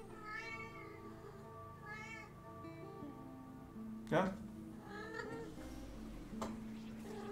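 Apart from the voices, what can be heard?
cat meowing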